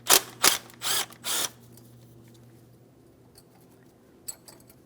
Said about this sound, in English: Just go ahead and remove your 10mm headed mounting bolt.